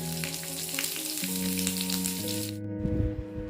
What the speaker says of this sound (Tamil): கத்திரிக்காய் போட்டு 1 நிமிஷத்துக்கு நல்லா வேகட்டும்.